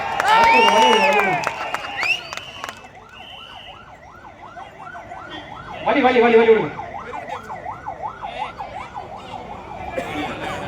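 A wailing ambulance siren cycles steadily through the clip, rising and falling repeatedly, as the ambulance passes through a political rally crowd in Tamil Nadu, with shouting voices over it at the start and middle.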